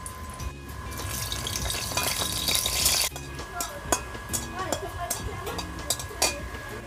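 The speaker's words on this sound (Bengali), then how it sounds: "তেল গরম হয়ে গেছে, এখন আমি এখানে দিয়ে দেব 2টো শুকনো লঙ্কা।" Dried red chillies crackle in hot mustard oil. A bright, loud sizzle fills the first three seconds, then gives way to softer scattered pops and clinks.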